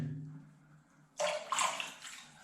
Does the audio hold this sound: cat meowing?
no